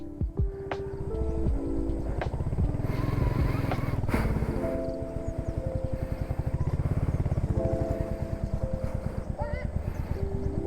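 A motorcycle rolls slowly along a road on the way to Shoolagiri near Bengaluru, its engine putting out a steady low putter with a rhythmic pulsing that rises and eases, close and fairly loud throughout.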